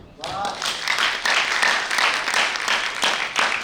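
An audience at a poetry recital in New Delhi breaks into applause after a brief voice, a moderate wash of clapping hands that swells and continues steadily for a few seconds.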